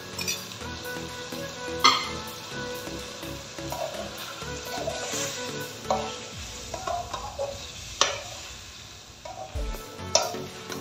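Chicken and yogurt masala sizzle gently in a pan while a spoon stirs and clinks against the metal now and then, close and fairly quiet.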